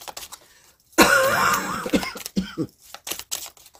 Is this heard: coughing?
yes